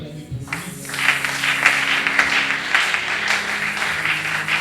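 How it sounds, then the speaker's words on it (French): An audience in a church service applauds and cheers for the keyboard player, with dense clapping swelling after a brief quieter opening and continuing steadily to the end. "Est-ce qu'on peut acclamer pour lui?"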